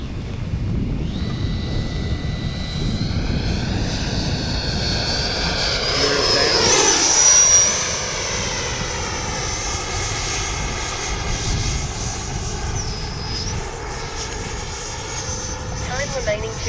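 A Freewing 80mm F-5 Tiger II RC jet on its maiden flight, a steady whining turbine drone with rising and falling pitch sweeps as it passes, swelling louder mid-pass, under ongoing talk.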